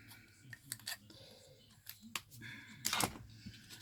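Scissors snipping through leftover paper while making a shabby-style paper rosette; several crisp, separate cuts at irregular intervals, close and fairly quiet, with the sharpest, loudest snip near the end.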